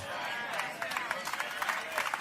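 Scattered, lukewarm clapping comes from a lecture audience, a thin patter of hands under a murmur of crowd voices, with no big surge or cheering.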